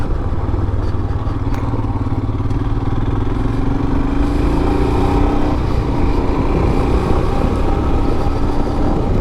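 A Royal Enfield Himalayan motorcycle ridden off-road, its single-cylinder engine droning loudly and continuously close by, with rising revs and rattling clatter over rough ground and no talking.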